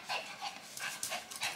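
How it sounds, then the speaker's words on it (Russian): A dog pants in quick, close bursts of breathy huffs, about five rapid exhalations in a short burst, with no talking. "Собака хочет поиграть."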